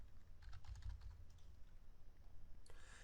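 Fingers type code on a computer keyboard, a quick run of soft, light key clicks, faint and close over a low hum, with a brief brighter click near the end.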